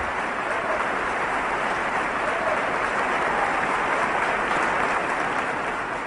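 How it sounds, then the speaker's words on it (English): Concert audience applause in Tchaikovsky Hall, Moscow, after a piano performance, a dense, steady roar of clapping filling the room at high level without a break. "The Russian pianist Sviatoslav Richter was seen to applaud and cheer long after the general public had become exhausted."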